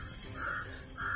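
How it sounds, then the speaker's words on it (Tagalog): Crows give two short, faint, raspy caws in quick succession, heard at a distance over a quiet outdoor background. "Grabe yung mga uwak."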